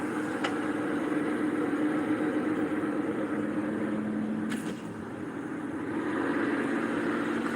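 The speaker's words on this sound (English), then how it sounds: "That is the sound of a bad fucking wheel bearing." A steady, droning hum from a moving car with a bad wheel bearing, constant throughout with road noise, plus a brief click partway through; no voices.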